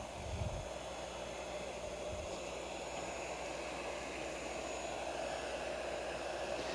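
Heat gun blowing on shrink wrap around a gift, a steady loud whooshing roar throughout with a couple of low thumps early on, close and without talk.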